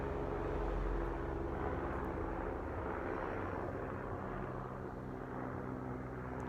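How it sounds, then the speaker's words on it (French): A helicopter passes overhead outdoors, a broad low rotor and engine rumble that is loudest early and then eases slightly as it moves away, steady for several seconds with no voices. "il y a un hélicoptère qui passe."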